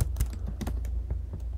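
Keys clatter on a computer keyboard during a Figma design session, a quick irregular run of close, crisp clicks over a low steady hum, with no one speaking.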